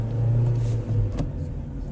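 A manual-transmission car accelerating steadily with engine rumble and revving, then a brief dip as it shifts into second gear; continuous, close and fairly loud.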